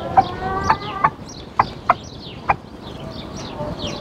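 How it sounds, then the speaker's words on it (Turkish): Free-ranging backyard chickens cluck close by, giving about six short, sharp clucks at uneven intervals over soft outdoor background noise. "bu tavuklar buraya çıkıyor"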